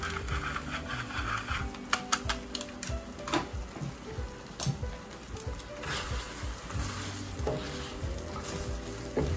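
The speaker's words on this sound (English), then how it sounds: "So now I'm going to put some fresh cheese in there." Fresh grated cheese is stirred into cacio e pepe pasta in a pan, giving a steady wet, sticky scraping and sizzle with occasional clinks of utensil on cookware, close and moderately loud.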